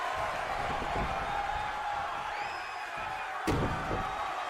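Video game wrestling crowd chanting in an arena, a dense steady roar of many voices with a brief sharp slam-like hit near the end.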